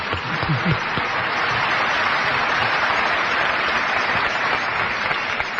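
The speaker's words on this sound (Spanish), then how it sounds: "Hay que aplaudir a Albert Camus, por favor." Steady applause from a crowd, a dense wash of clapping that holds evenly throughout without voices.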